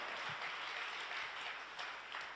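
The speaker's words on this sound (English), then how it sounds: "Come on, give the Lord a clap and praise the Lord." A church congregation claps together in praise during a sermon, a dense, steady wash of applause that fills the room evenly for a couple of seconds without a break.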